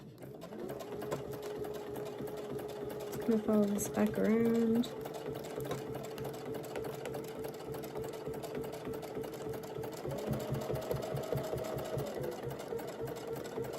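A sewing machine stitches an appliqué leaf on a spring wall hanging, a rapid, steady close-up whir of stitching that pauses briefly and resumes while someone talks over it.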